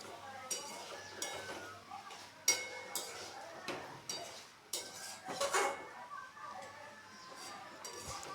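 A spoon scrapes and clinks against a pan as raw green plantain curry with spices and a little water gets stirred, giving irregular close metallic knocks and scrapes with a faint steady background hum.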